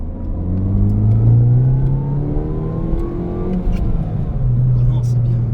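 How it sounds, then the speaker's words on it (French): A Mini Cooper S R56 revs up to around 4000 rpm, its exhaust rising in a loud rumbling sweep heard from inside the car, with someone talking over the engine. "Et à 4000 tours, le bruit de l'échappement et tout."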